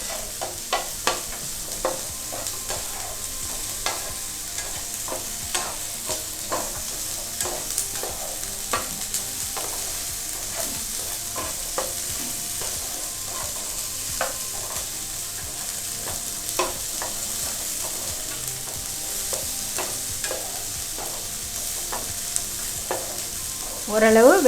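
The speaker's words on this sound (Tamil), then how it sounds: "இது வந்து அஸ்பாரகஸ் போட்டு கொஞ்சம் சாட்டே பண்ணுறோம்." Asparagus sautés in a hot pan, a steady sizzle running throughout with frequent scraping and stirring taps from a utensil, close and continuous, with no speech.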